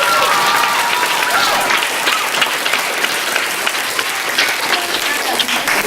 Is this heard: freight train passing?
no